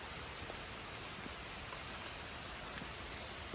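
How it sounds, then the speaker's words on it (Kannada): Rain falls steadily at a resort in Coorg, a faint, even hiss of drops with occasional soft patters and no voices. "ಮಳೆ ಬಂದಿಲ್ಲ ಅಂತ ನಮ್ಗೆ ಬೇಜಾರಾಗ್ತಿತ್ತು, ಬಟ್ ಮಳೆ ಬಂದುಬಿಡ್ತು"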